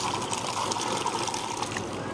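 Mixed drinks poured from a shaker into a glass, a steady close liquid trickle and splash running for about two seconds with no talk over it.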